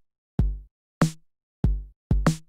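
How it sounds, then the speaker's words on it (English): Live-coded Tidal Cycles bass drum pattern, four punchy electronic kicks evenly spaced with silent rests between, close and clean with no other sounds. "alternate between a bass drum and a rest."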